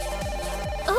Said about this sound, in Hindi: ओह, किसी का फोन आ रहा है।